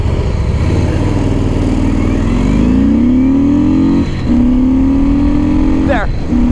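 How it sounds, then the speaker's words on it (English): Harley-Davidson Fat Boy S motorcycle pulling away from a standing start: a loud, close engine rises in pitch through the gears with brief shift gaps, and a rider talks over it. "It's a powerful bike, very torquey bike, but I had no tire spin, and a pretty mediocre start."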